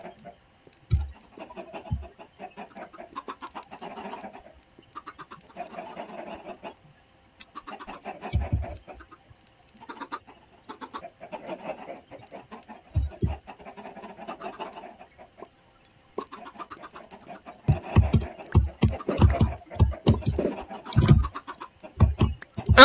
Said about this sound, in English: I like the chickens. The chickens are nice.